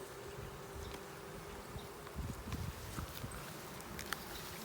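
Honeybees from a small new nuc buzz in an open hive during an inspection, a soft continuous hum with faint scattered thumps of hive parts being handled nearby and no talking.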